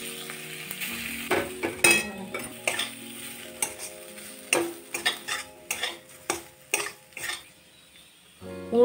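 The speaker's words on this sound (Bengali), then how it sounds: "এবার কুমড়োগুলো আমি তেলে দিয়ে দিচ্ছি।" Pumpkin pieces fry in hot mustard oil in a wok, with a steady sizzle broken by repeated scraping stirs and clinks of a utensil against the pan, close and fairly loud.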